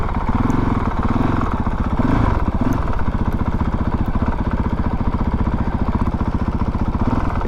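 A Honda CRF450RL motorcycle engine chugs at low revs through a tight, slow full-lock turn ridden on the clutch, a steady close pulsing thrum with brief swells, with no voices.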